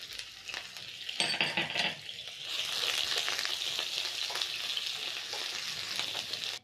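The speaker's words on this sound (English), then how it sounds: "you're going to saute the onions until soft and the garlic will be fragrant" Onions and garlic sauté in a hot pan for stir-fry noodles, a steady close sizzle with stirring scrapes and a brief louder burst early on, heard alone without talk.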